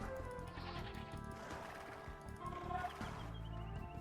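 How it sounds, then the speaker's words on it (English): Goats bleat in a strategy video game, a few calls standing out over a dense, steady bed of game music and ambient sound. "We got some goats."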